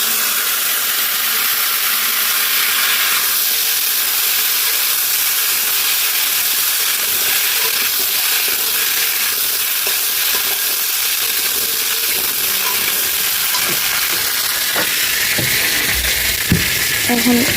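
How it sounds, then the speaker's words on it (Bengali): Potatoes frying in oil in a pan for a home-style rui fish curry, a loud, steady hissing sizzle that carries on unbroken, close up, with faint clinks near the end. "আলুগুলো এবার ভেজে নেব।"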